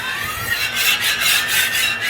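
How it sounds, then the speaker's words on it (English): Metal spatula rasping across a Voyager disc cooktop as it works loose food debris in oil during seasoning, a steady scraping with repeated strokes, close and moderately loud. "basically scraping that food debris all loose"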